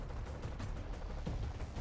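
Gunfire from the video game XCOM 2: War of the Chosen, a dense continuous burst of loud shots and rumbling impacts filling the whole stretch with no talk.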